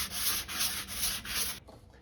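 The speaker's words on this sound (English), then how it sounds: "Now we can hit it with a sanding sponge." A sanding sponge is rubbed over a repaired wooden hinge area in quick back-and-forth strokes, a close, hissing scrape repeated four times before stopping abruptly.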